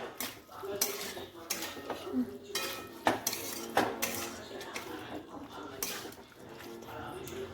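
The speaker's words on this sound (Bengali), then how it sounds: "এই কষিয়ে নেবো আলুগুলোকে।" Boiled potatoes being stirred and sautéed in a pan with a metal spatula, repeated scraping and clanking strokes against the pan over a soft background sizzle, with a voice faintly audible.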